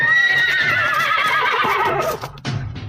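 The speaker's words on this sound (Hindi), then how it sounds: "घोड़े दहशत में हिनहिनाते हुए अपने पिछले पैरों पर खड़े हो गए।" Panicked horses pulling a halted carriage let out a loud, drawn-out shrill whinny that wavers and falls, close and alone, ending with a few snorts and shuffling hoof sounds.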